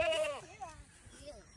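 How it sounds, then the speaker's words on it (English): Goats on a farm, including newborn kids, give a few wavering, quavering bleats, fairly faint and nearby, over low background noise. "Got the goats and they just had babies too."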